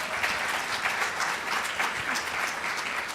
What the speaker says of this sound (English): Can we just get a round of applause for that?